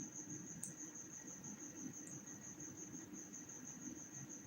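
Crickets keep up a steady, thin, high-pitched trill in the background, faint and continuous beneath a low hum, with no talking.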